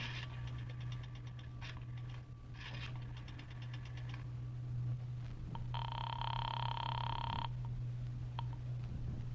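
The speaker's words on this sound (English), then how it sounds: "dropped a nickel in the slot, and dialed" A payphone in an old-time radio mystery drama: clicking dial pulses in bursts followed by a ringing tone, over a low steady hum, with no voices.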